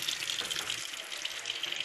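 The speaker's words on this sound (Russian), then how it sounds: "Вот давление избыточное выходит." Excess pressure escapes from a leaking water heater boiler through an open mixer tap, a steady faint hiss of rushing water and air that holds evenly throughout.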